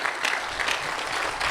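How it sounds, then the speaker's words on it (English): An audience applauds veterans at a memorial honoring a fallen sergeant, a dense, steady burst of clapping from a crowd indoors, briefly sustained without voices. "folks applaud these heroes, all of our veterans"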